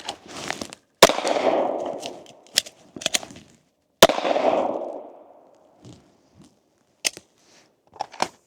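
A handgun fires at a shooting range target from about five to six yards: sharp, loud individual reports with echoing tails, spaced irregularly and including a couple of closely paired shots, then quieter handling clicks.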